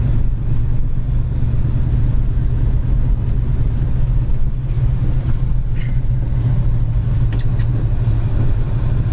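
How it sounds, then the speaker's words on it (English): Steady, loud low exhaust rumble from the engine of a 1972 Ford Mustang Mach 1 with a four-speed and rusty exhaust pipes, idling evenly and up close with no talk over it. "The exhaust tips are nice, but it probably could use some exhaust work. Doesn't sound bad"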